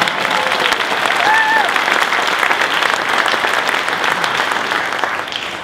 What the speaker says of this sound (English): somebody want to clap for him?